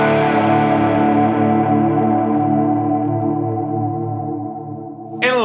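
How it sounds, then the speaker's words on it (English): A big sustained electric guitar chord rings out with heavy reverb and distortion, slowly decaying, then a fresh strum bursts in at the very end. "If you want, you can kick on your reverb there and it will just sound bigger."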